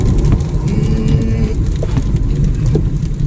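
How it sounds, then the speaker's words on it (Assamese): Heavy rain drums steadily on a moving car during flooding in Sivasagar, Assam, a loud continuous wash of noise blended with the engine and road rumble. "একদম বহুত বেছি বৰষুণ হৈ আছে"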